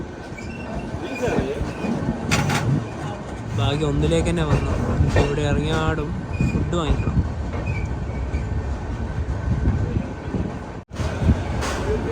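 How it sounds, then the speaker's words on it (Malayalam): The Jamnagar–Tirunelveli Express pulls into Madgaon railway station in Goa, its wheels rumbling and squealing close by while people talk throughout. "ഗോവയിലെ മഡ്ഗാവ് റെയിൽവേ സ്റ്റേഷനിലേക്ക് ഇതാ നമ്മുടെ ട്രെയിൻ എത്തിക്കൊണ്ടിരിക്കുകയാണ്"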